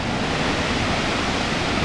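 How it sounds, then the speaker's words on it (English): Water from Slab Creek Reservoir pours over the top of a dam spillway in a flood, a steady, loud, unbroken roar of rushing water with no break or talk. "That is just a massive roaring waterfall coming over that thing."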